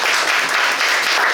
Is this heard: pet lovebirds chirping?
no